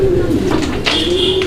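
A Belgian bloodline racing pigeon coos in a steady, close, fairly loud purring run with a higher whistling tone entering toward the end, with no one talking.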